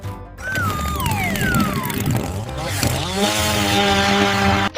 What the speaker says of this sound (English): lifted the chainsaw and began cutting around it.